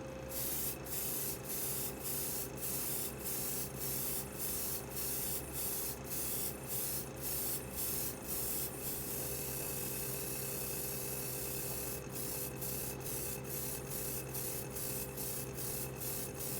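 An airbrush sprays Pledge Revive It Floor Gloss over plastic spoons painted with acrylic craft paint, a steady close hiss running continuously with a faint regular ticking pulse and a low background hum.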